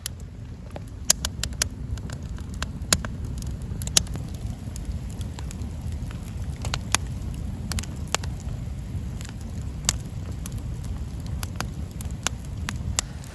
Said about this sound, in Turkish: Ateşimizi de yaktık arkadaşlar.